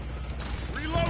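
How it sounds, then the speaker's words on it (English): A weapon reload in Call of Duty Warzone, with mechanical clicking and ratcheting metal sounds under a busy game background, ending in a brief creaky slide. "I'm reloading!"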